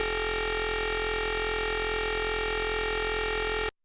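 A UDO Super6 synthesizer plays a cross-modulation patch with the modulating oscillator set to a square wave. It makes a steady, buzzy drone that holds unchanged for nearly four seconds, then cuts off abruptly.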